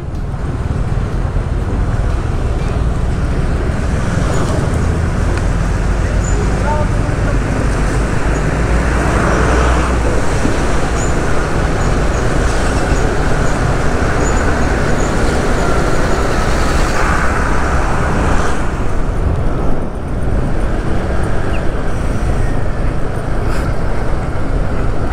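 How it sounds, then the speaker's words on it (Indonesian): A Mercedes Actros truck with trailer maneuvers in roadway traffic, heard as a steady, fairly loud rumble of engines and road noise with some wind, and no talk. "depan kita ini ada truk trailer yang mau masuk apa keluar ini ya. Ini kepalanya Mercy nih, Actros."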